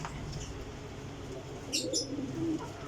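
Soft, low cooing from a Sialkoti pigeon, a female bird, heard faintly over a steady background murmur with a couple of brief higher chirps.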